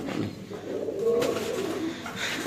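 Soft, low cooing of Golden Sweet pigeons in a steady murmur, fairly close, with faint background rustle and no clear voices.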